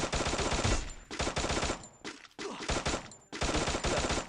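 Automatic gunfire in Free Fire, loud close bursts of rapid shots separated by short pauses, repeating several times.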